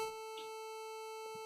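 Steady NES-style square wave bass tone played at a 25% duty cycle, sustained and even throughout with a faint electronic buzz, alone without any talk.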